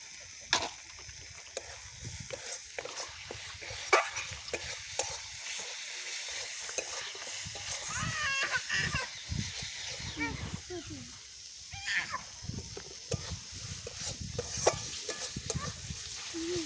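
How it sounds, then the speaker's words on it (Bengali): Pieces of bata fish coated in ginger and cumin paste are stirred in hot oil for a curry, giving a low, steady sizzle broken by repeated scraping strokes and clicks of a spatula against the pan. "আদা জিরে বাটা দিয়ে আমি এবার এগুলোকে একটু নেড়ে নেব।"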